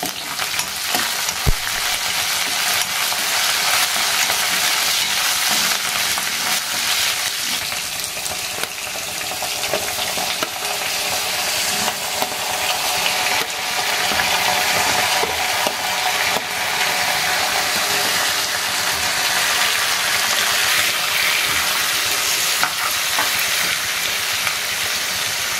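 Garlic, green chillies and curry leaves frying in hot oil for a chicken fry, a dense, steady sizzle that runs loud and close throughout with a few faint clinks, and no talk.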